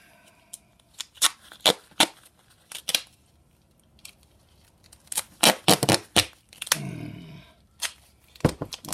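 Duct tape being cut by hand without scissors: a series of sharp snipping and ripping sounds, close by, coming in irregular bursts with a longer tearing stretch near the end.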